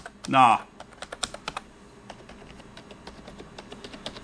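Typing on a Razer Cynosa Chroma gaming keyboard, a quick run of soft, muted key taps that trails into lighter scattered clicks, close up, after a brief burst of a voice at the start.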